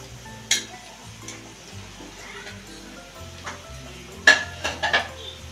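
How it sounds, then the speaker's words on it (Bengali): Cut okra tipped into a frying pan for an okra and potato fry, with a few sharp clatters of utensil against pan and a low sizzle running through. "দেখুন এখন আমি কেটে রাখা ভেন্ডিগুলো দিয়ে দিচ্ছি"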